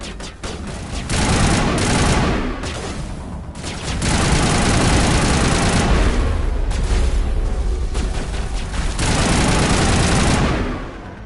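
A rocket launcher gun firing in the Mass Effect 1 Legendary Edition video game, loud sustained blasts and rapid gunfire in dense, continuous bursts with brief lulls.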